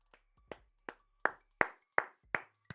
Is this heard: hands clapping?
yes